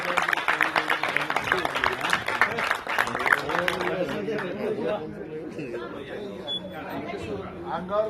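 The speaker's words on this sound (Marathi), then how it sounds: "जोरदार टाळ्या झाल्या पाहिजे" A crowd claps loudly for a few seconds, then the applause fades as voices and chatter take over.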